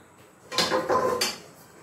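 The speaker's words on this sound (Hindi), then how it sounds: "कढ़ाई रख दिया मैंने चूल्हे के ऊपर" A kadhai (wok) is set down on a lit gas stove while cooking chicken bhuna masala, giving two close metallic knocks and scrapes about half a second apart over a quiet kitchen background.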